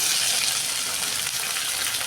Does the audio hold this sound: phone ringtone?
no